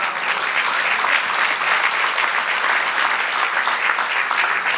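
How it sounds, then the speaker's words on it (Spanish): A church congregation bursts into loud, steady applause during a Spanish-language sermon, dense clapping filling the whole stretch with no break and no voices over it. "Dale un aplauso al Señor."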